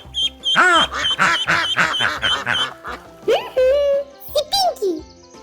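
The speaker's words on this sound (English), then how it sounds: "Ducks love swimming in the water and they sound like this." Ducks quack in a rapid series of nasal calls, close and loud, mixed with brief chirpy sounds over a soft musical background.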